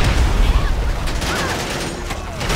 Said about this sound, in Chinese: 我发现他那个炮台会自动射击